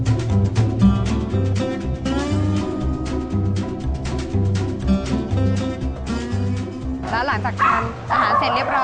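Many dogs at a kennel barking and yipping together at feeding time, a dense, continuous chorus of close barks with some whimpering, and people talking underneath.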